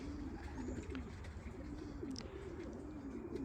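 Racing pigeons coo in a steady, repeated low rolling rhythm, several birds close by and fairly loud over a constant outdoor background hum, with no talking.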